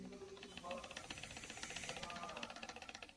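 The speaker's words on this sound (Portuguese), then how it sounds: "Quando você ouvir um barulho de algo vibrando, parecendo um plástico na região do motor, na Hyundai Creta, ou até mesmo no HB20, ambos TGDI" Rapid plastic rattling and buzzing from a loose intercooler deflector in the engine bay of a Hyundai Creta or HB20 TGDI, vibrating rhythmically with the running engine, with someone talking over it.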